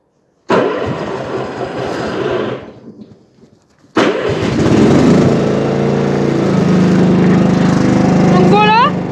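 A leaf-collecting mower engine cranks and catches briefly, sputters and fades, then roars up loudly again and runs steadily close by, with a short whistling tone near the end.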